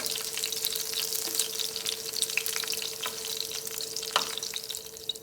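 Washed ridge gourd pieces fry in a hot pan for a chutney, a continuous close sizzle with occasional crackles and faint stirring, with no voices.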